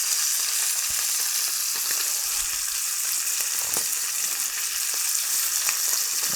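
Lamb chops sear on a bourbon burner with a loud, unbroken frying hiss and faint crackles throughout.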